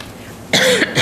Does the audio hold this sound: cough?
yes